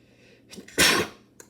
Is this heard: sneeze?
yes